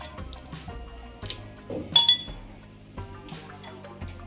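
Washed raw chicken pieces drop into a wide metal cooking pot, giving soft wet plops and light clinks against the pot, close by and without speech.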